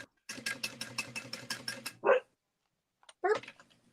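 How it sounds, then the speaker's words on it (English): A dog barks in a rapid burst of about a dozen close, loud yaps, followed by a couple of sharper yelps after a short pause. "Sorry for my dog. He probably sees a squirrel."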